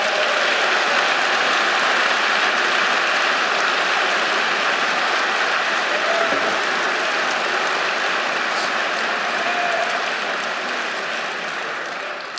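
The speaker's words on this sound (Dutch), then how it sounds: "Geef jezelf maar een fantastisch applaus." Loud, dense crowd applause at a party congress held for a chairman's re-election, a steady roar of many hands clapping that continues unbroken and only slightly eases toward the end.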